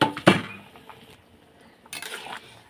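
Metal spoon scraping and clanking against a pot as soybean curry is stirred, a couple of sharp clinks early on followed by softer scraping and a brief clattering burst near the end.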